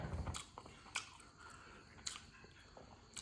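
Someone eats rice with a Thai fish dip, pon pla, with sadao leaves, giving a few close, quiet bites and soft wet chewing sounds at irregular moments.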